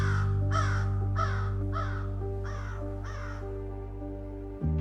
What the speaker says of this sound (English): See all those crows out there on the fence line?